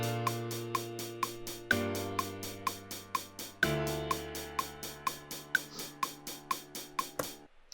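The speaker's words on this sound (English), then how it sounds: "So that's a straight hi-hat groove." Programmed straight eighth-note hi-hat groove in Ableton Live, crisp evenly spaced ticks over a sustained bass and chord backing that shifts twice, steady and alone before stopping abruptly.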